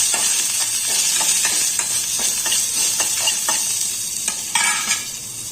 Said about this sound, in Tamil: ஒரு கொத்து கருவேப்பிலை பொடியாக நறுக்குனது. இதை நல்லா பொரிச்சுக்கலாம்.